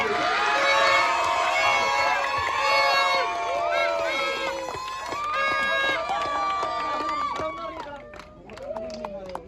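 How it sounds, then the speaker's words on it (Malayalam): A large crowd cheering and shouting at a sevens football trophy presentation, loud and continuous with scattered clapping mixed in and voices calling out over it, fading slightly toward the end. "എല്ലാവരും കയ്യടിക്ക്"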